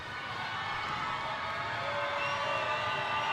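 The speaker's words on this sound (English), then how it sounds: "Crowd making some noise." Spectators at a women's college basketball game between Navy and Loyola make a steady, moderately loud wash of crowd noise and cheering that fills an arena without letup.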